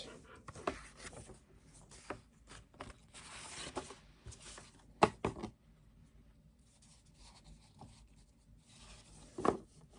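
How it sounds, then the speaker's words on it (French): A pencil marks guide points and draws lines on paper pieces for a mini Halloween coffin album. The soft, scratchy strokes are quiet and come in short bursts, with an occasional louder scrape. "j'ai fait sur tous mes morceaux mes repères, tirer mes traits"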